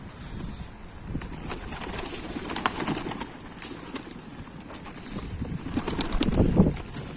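Pigeons in an outdoor loft setting produce a steady bed of wing flutters, soft coos and rustling, with brief flapping bursts rising near the end; no speech is heard.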